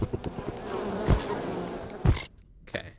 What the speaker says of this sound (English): Oh, good. Bees.